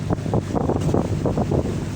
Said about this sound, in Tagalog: Sinalubong tayo ng alon. Medyo maalon-alon siya.